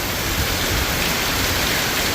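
Heavy rain pours down at night in a Gujarat village, accompanied by wind, a loud, unbroken wall of hiss with no pauses or distinct drops, steady from start to finish.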